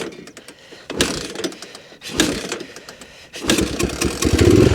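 An old three-wheeler engine cranks in rough bursts, catches, then fires and runs loud and close, revving unevenly as it comes to life.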